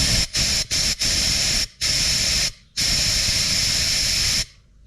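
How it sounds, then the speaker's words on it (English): Compressed air blasts through an oil passage in a Honda Super Cub NBC110 engine: several short hissing bursts, then two longer sustained jets, loud and close, ending in silence. "I'm just going to blow a bit of compressed air through the oil passage here"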